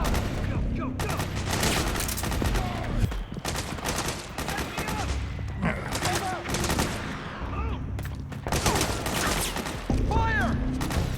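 Bursts of suppressing gunfire in Metal Gear Solid 4 rattle in dense, loud volleys of automatic fire broken by short pauses, with shouted soldier voices mixed in.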